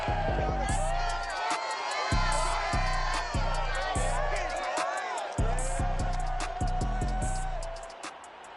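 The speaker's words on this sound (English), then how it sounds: "A good crowd on hand and seemingly ready to go in the Motor City." Stadium crowd in a Madden NFL 22 football game at Ford Field in Detroit, near capacity, roars and cheers continuously, loud and close, with repeated bursts of whooping over steady rhythmic low thumps.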